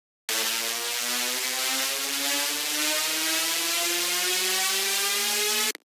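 A synthesizer riser built with oscillator sync and LFO modulation: a buzzy, harmonically rich tone that climbs slowly and steadily in pitch for about five seconds, loud and alone, then cuts off abruptly.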